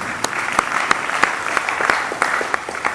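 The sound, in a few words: church congregation applauding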